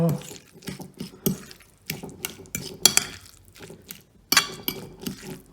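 Guacamole mixed by hand in a bowl, giving irregular scraping and clinking knocks of a utensil against the dish, close and moderately loud, with brief pauses between bursts.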